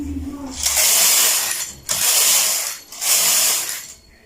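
A knitting machine carriage is pushed back and forth across the needle bed, knitting rows for a dress: three loud, close, rasping mechanical sweeps, each about a second long, separated by short gaps.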